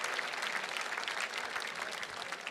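Gala audience breaks into sustained applause, a dense, even wash of clapping from a large crowd at moderate distance, with no speech over it.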